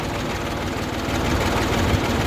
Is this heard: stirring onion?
no